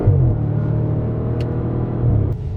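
A 2015 Audi RS5's naturally aspirated V8 idles with a steady, loud low rumble, its deep throb holding evenly throughout and swelling slightly near the end.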